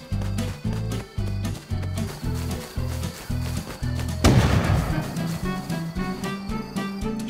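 A single sharp gunshot in the survival game Rust cracks loudly over a steady, rhythmic pulsing backdrop, with no voices.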